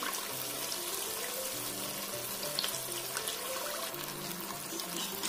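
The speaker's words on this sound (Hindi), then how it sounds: "पलट पलट के हम हमारी सारी पूरियां अच्छी सी गोल्डन कलर की फ्राई कर लेंगे।" Farsi puris deep-frying in hot oil, a steady, continuous close-up sizzle and bubbling with no talk.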